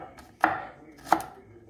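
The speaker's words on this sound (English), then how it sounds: "because that's a baby carrot, so I also cut small like this" Baby carrot being chopped into small pieces on a board, two crisp knife strikes about two thirds of a second apart, close and clear with no talk.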